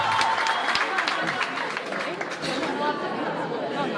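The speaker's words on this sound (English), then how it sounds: "We clap for them, please." Audience at a school debate clapping for the speakers, a scattered round of applause mixed with murmuring chatter that continues steadily and somewhat distant for a few seconds.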